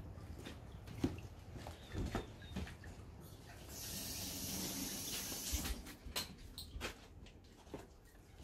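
A vapor blaster gun rinses a part with pressurized water spray. A hissing burst of about two seconds rises in mid-clip, set among faint knocks and clatter, all fairly quiet.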